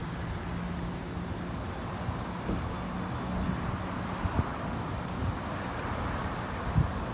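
Road traffic passes on Bergen Avenue in Kearny, New Jersey, on a rainy evening, a steady broadband wash of tire noise and distant engines with faint low thumps.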